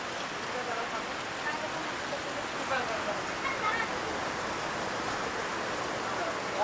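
Heavy rain falls steadily outside a wooden house, a dense even wash of drops that stays constant and fairly soft, with faint voices mixed in at points.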